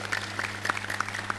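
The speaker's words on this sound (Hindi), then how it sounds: "जोरदार ताली बजा दो इस बच्चे के लिए" An audience at a yoga and health gathering breaks into clapping, a brisk patter of many hands at moderate distance, steady over a low background hum.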